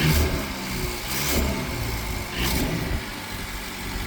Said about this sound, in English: now that we got the car started